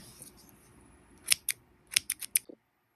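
Scissors snip crochet yarn close by, a handful of crisp metallic cuts in quick succession over a faint background hiss, ending abruptly in silence.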